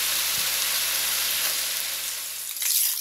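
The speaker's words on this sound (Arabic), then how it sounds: "احط بقية البصل واشوحه لحد ما لونه يتغير" Onions fry in oil over high heat with a loud, continuous close sizzle and hiss, ending in a brief louder crackle as more goes into the pan.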